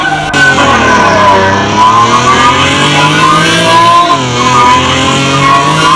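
A modified Alfa Romeo Giulia at a racetrack revs loud and close, its engine note climbing slowly and steadily, dipping briefly as it shifts, then pulling up again without any voices over it.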